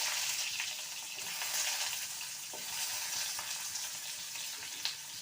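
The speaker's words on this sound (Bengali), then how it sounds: "ফোড়নটা ভাজা হয়ে গেছে আলুর টুকরোগুলো দিয়ে দেবো" Potato pieces fry in mustard oil after a black cumin tempering, giving a soft, even sizzle with faint stirring taps and one small clink near the end.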